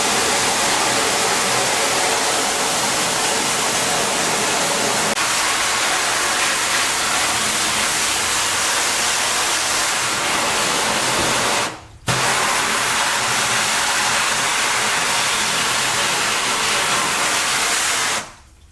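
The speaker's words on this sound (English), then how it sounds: "Obviously going to take a little bit more time to wash this stencil out than some of your higher mesh counts." Water spray hissing steadily and loudly across a 24 mesh screenprinting screen as the exposed stencil washes out, a broad continuous rush broken by one brief pause near the end.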